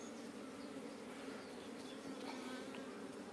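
Honey bees swarm in a dense, steady buzz while a beekeeper divides their hive, the droning hum continuous and close throughout with no voices.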